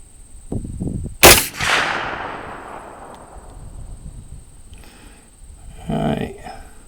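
A single loud 400 Legend rifle shot firing Nosler Whitetail Country 215-grain ammunition at a target 122 yards away, a sharp crack with a long fading echo, heard between stretches of speech.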